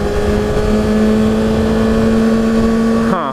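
A 2013 Kawasaki Ninja ZX-6R 636 engine held under steady throttle, a loud sustained drone with a constant pitch that drops sharply as the throttle closes near the end, recorded close while riding.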